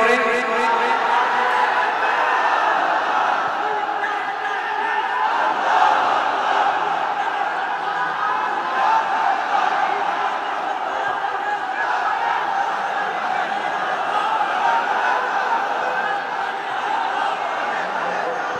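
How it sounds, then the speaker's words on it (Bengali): A large religious gathering at an Islamic sermon shouts takbir together, a dense, steady roar of many voices that carries on without break. "তাকবীর দেন তো একজন আওয়াজ করে"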